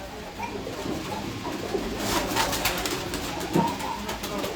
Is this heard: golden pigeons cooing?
yes